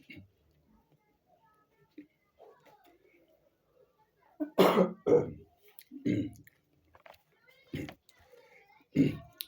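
A few short, harsh coughs burst out close by after a quiet stretch, spaced irregularly with brief pauses between them.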